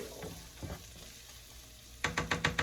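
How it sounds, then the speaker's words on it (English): Onions cooking in leftover bacon grease and sausage oil, giving a soft sizzle with a few quiet stirs, then a run of five sharp, evenly spaced scrapes or taps of a utensil against the pan near the end. "I'm going to cook them down in that same bacon grease and sausage oil"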